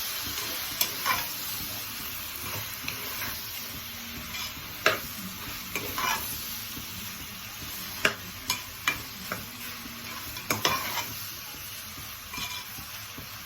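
Onions sizzle and hiss in a hot pan, with intermittent scrapes and clacks as a utensil stirs them; no voices.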